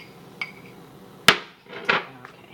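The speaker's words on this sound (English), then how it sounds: "Scrape everything out." Spatula scraping melted chocolate from a bowl for chocolate-covered pretzels, heard as a few sharp clanks and scrapes against the bowl at irregular intervals, close and moderately loud with no talking.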